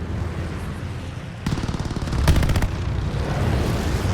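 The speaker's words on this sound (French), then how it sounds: "Ça sent le roussi pour moi. Je subis trop de tirs." Gunfire striking the player in the shooter game Call of Duty Vanguard, over a background rumble: a burst of rapid shots, then a sharper second volley of quick, close impacts that fade into steady battle noise.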